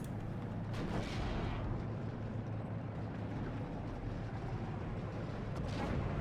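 Game battle sounds from Steel Division: Normandy 44 as a Pak anti-tank gun fires on a British Cromwell tank, a dense continuous wash of artillery and gunfire rumble with a few sharper bursts, steady and loud throughout.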